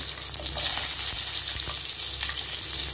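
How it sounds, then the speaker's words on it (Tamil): Small shallots hit hot oil in a pan where mustard seeds have just popped, giving a steady, loud hiss of frying with a few faint clinks of stirring. "கடுகு வெடிச்சிருச்சு, இப்போ ஒரு 10-12 சின்ன வெங்காயம்"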